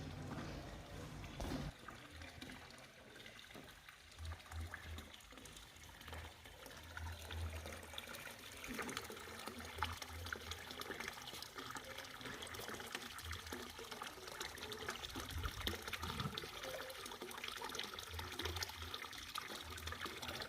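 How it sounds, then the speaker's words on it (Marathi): Water from an ancient hot spring at Unapdev gushes and splashes in a continuous, steady wash of noise, fairly faint and distant, with no voices over it. "हा पुरातन व प्राचीन महत्त्व असलेला झरा पुन्हा जोमाने खडाडला आहे"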